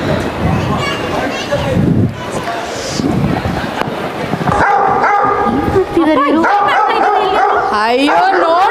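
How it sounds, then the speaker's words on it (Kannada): Two dogs yip and bark at close range, with some whimpering, high-pitched calls toward the end, while several voices talk over them. "ಒಂದಾದ್ರೂ ಬೊಗಳ್ತಾ ಇದಾವೆ ನೋಡು"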